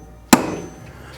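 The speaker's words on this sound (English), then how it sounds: "a little punch here just to mark our spot so the drill bit doesn't skip around on us" A hammer gives one sharp metallic tap to a center punch, marking a drilling spot on a Jeep YJ fender during a Rugged Ridge fender flare install. The hit rings briefly and fades.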